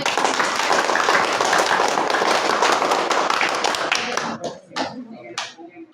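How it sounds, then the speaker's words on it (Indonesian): A classroom group claps together in a dense burst of applause that thins out into a few scattered claps near the end. "Kita berikan dulu tepuk tangan."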